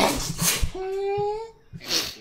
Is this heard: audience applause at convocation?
no